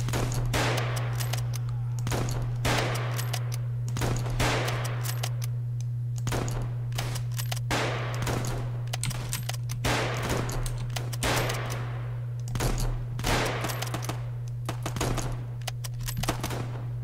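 Rapid gunfire bursts crackle throughout a Roblox 55 Days at Peking battle, with dense automatic volleys and scattered single shots over a steady low hum, loud and continuous with no talk.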